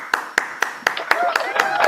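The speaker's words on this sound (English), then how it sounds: "Huge round of applause for Shabnoor, please." Scattered hand claps for a storyteller at an online gathering, about eight sharp separate claps in a steady rhythm, close and fairly loud, with a faint voice running underneath.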